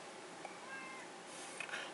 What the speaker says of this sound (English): Can you hear my cat? She's probably hungry.